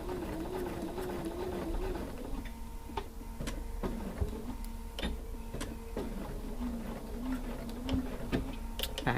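A sewing machine stitches a log cabin quilt piece in a steady run of quiet mechanical clicks over a soft motor hum, close by and without talk.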